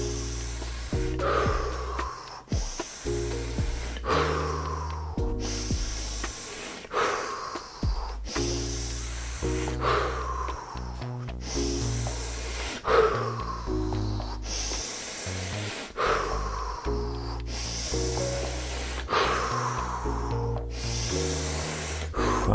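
Deep rhythmic breathing exercise, steady alternating in-and-out breaths at a doubled pace, close and loud, sounding as repeated airy inhale and exhale swells with a low tonal hum running underneath.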